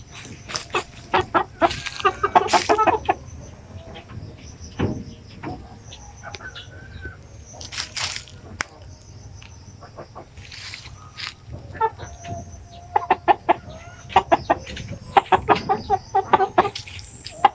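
Pure Basilan native chickens in Mindanao cluck and squawk in scattered bursts over a low steady hum, with some birds near and others farther off.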